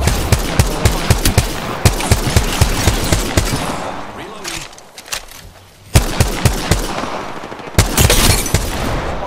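Rapid automatic gunfire from a shooter video game rattles loud and close in sustained bursts, pausing briefly midway before resuming with more fast shots and a sharper boom, with a voice talking over the shooting.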